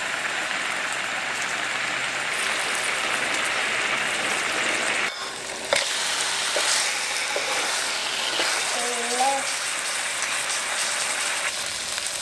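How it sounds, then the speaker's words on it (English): Marinated salmon grilling in a frying pan gives a steady, even sizzle throughout, with a brief clatter partway through and a faint tonal squeak near the end. "on a fry pan, let's grill the marinated salmon on each side until it's golden brown"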